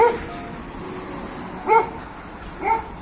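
Dogs bark on a street in Benevento, Italy, with two brief, separate yelps standing out over a steady wash of outdoor town noise.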